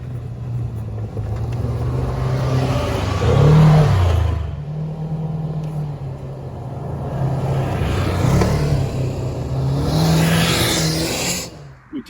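A side-by-side UTV engine, a Kawasaki Ridge or Polaris Ranger, revs loudly nearby in two long swells, a steady rumbling drone rising and falling with no talk.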